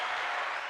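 Steady applause fills the short burst, a dense wash of clapping from a small group at close range, continuous with no talking over it.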